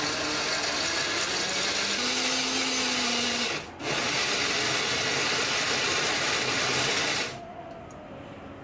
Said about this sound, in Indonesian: bumbu ini akan kita haluskan menggunakan blender ya